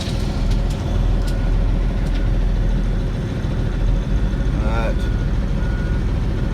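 Dump truck hauling roughly 13 to 14 tons of gravel, a loud steady engine drone and road rumble filling the clip, with a brief higher whine near the end.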